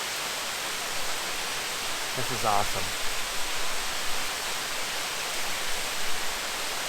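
Steady broadband rush of a waterfall beside a natural cave at Buffalo National River, constant and enveloping, with someone briefly speaking over it near the start.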